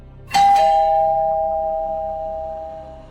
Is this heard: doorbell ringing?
yes